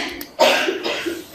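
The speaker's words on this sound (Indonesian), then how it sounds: "batuk nih" A single close, sharp cough bursts out and trails off briefly.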